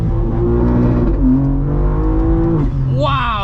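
A 720 wheel-horsepower 2023 BMW M2 in Sport Plus mode accelerates hard with a loud, steady engine drone climbing in pitch, then a sharp rising whine as revs build near the end, heard from inside the cabin.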